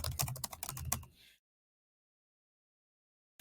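Rapid keystrokes clatter on a computer keyboard while a name and heading are typed into a Google Docs document, a quick burst of close clicks that stops abruptly and leaves silence.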